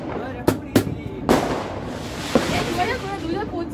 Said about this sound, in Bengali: কত বাজি ফাটছে।